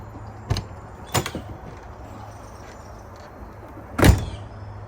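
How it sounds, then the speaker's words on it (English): The door of an XLR toy hauler RV thumps shut three times, sharp close knocks spaced apart over a quiet low hum, the last one the loudest. "Definitely a better fit. It shuts really tight. Shuts well."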